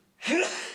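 A single sharp sneeze from an adult, close and loud, bursting out suddenly and trailing off in a breathy tail, heard on its own without talk.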